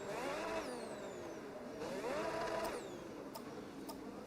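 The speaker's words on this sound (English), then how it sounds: "Some burnouts to the grid." Formula 1 car in the F1 26 racing game doing burnouts on the way to the grid, its high engine whine sweeping up and down in repeated revs, with sharp pitch glides and brief clicks over a steady tonal drone.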